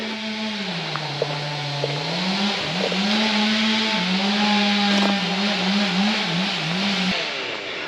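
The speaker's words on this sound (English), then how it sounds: "Chainsaws." Chainsaws whine steadily as workers clear fallen trees in a forest, the pitch of the engines rising and dipping as they cut, loud and continuous with no voices.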